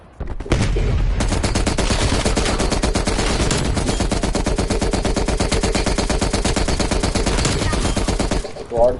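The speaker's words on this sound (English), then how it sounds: "shoot me with one shot. With a 3-round burst" Sustained rapid gunfire from a video game's 3-round burst weapon, a loud dense stream of shots running nearly nonstop for about eight seconds before cutting off.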